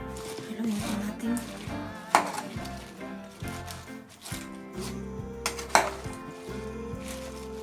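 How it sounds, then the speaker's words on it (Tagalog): A spoon clanks against a pot while chicken wings and pechay simmer in coconut milk, with two sharp metallic knocks among softer scraping and a soft voice talking in the background. "Haluin po natin."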